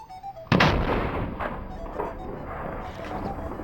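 A historic cannon fires at a fort demonstration, one loud sudden boom followed by a long rolling echo, with faint shouted commands just before the blast.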